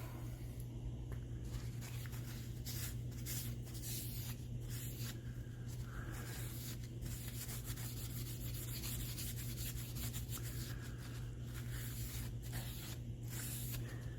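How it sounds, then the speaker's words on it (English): A Queen fixed blade knife is gently polished to lift scale, producing a continuous even rubbing, sanding hiss over a steady low motor hum with no talking. "I can be very gentle and almost polish instead of trying to grind away this scale"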